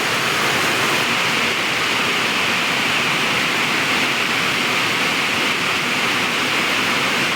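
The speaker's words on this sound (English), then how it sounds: "It just started raining a little bit ago. It's pouring down out there." Steady, dense hiss of heavy rain pouring down, constant and loud throughout with no pauses.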